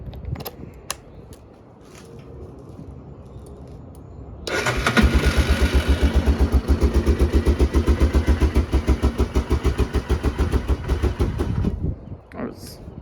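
A 2000 Yamaha Big Bear 400 ATV engine with low compression is started cold: a few clicks and handling sounds, then the engine catches around four seconds in and runs with a loud, fast, even chugging before cutting off near the end.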